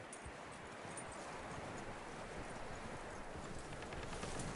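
Horse hooves clip-clop softly and steadily in Red Dead Redemption 2, quiet rhythmic steps under a wide wash of wind and outdoor ambience.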